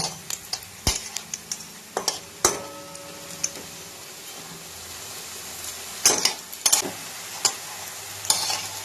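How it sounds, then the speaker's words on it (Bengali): Crispy drumstick flower fritters fry in oil with a low background sizzle, while a utensil turns them and makes sharp, irregular clinks and scrapes against the pan. "বড়াগুলো উল্টে পাল্টে আমার ভাজা হয়ে গেছে"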